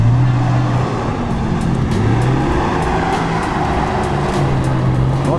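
An Isuzu Rodeo SUV rolls down a steep off-road descent, its engine running low and steady with a shifting drone and faint mechanical clatter, close and continuous, with no voices.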